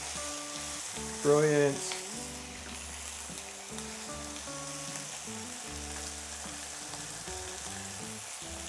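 Chicken thigh fillets brown in a frying pan with a steady sizzle and crackle, close but quiet, while someone speaks briefly and background music plays.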